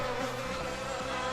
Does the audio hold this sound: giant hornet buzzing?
yes